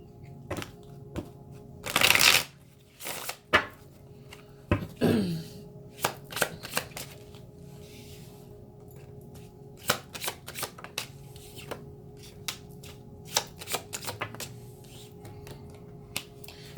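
A deck of cards is shuffled by hand for a tarot-style reading, crisp rapid riffling bursts and sharp snaps repeating close up at an uneven rhythm with no talking.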